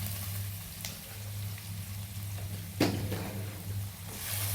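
Onion, capsicum and curry leaves sauté in a pan for kuzhi paniyaram, a soft steady sizzle with a few stirring scrapes over a low background hum.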